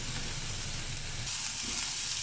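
Grated carrot sautés with onion in a pan for potato bonda filling, giving an even, close hiss of frying with no voices.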